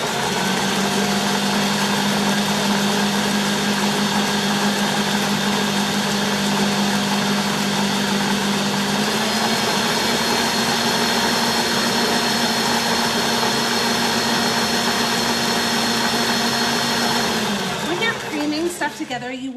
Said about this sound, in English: the Bosch mixers are amazing, but with just a little bit of batter they sometimes need a little bit extra help